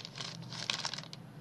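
Paper bag being cut with scissors to enlarge it for an envelope, a soft, quiet crinkling and snipping close by, lasting just over a second with no talk.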